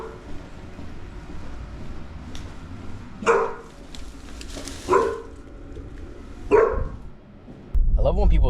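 A dog barks from behind a closed door at a delivery stop, three loud separate bursts a second or two apart over low street and car background.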